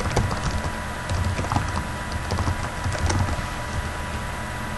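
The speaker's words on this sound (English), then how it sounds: "Let's type that in." Keys on a computer keyboard are tapped in an irregular run of light clicks while a web address is entered, close by over a steady background hiss, with no one talking.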